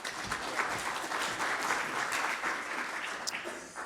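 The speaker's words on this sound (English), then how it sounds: "Round of applause." Audience applause at a talk on decarbonising the public sector in England, as a deputy director is welcomed to speak: steady, dense clapping held for several seconds with a few sharper claps standing out, alone without speech.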